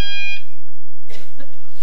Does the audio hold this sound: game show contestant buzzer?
yes